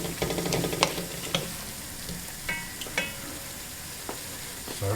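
Chard and spinach frying in a pan, stirred every so often, with a steady close sizzle and sharp scraping knocks from the utensil against the pan.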